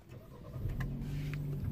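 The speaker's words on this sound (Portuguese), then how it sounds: "Ao ligar o carro..." A 2021 Jeep Compass Limited starts up nearby: a short crank catches into a steady mid-pitched idle hum that holds until the end.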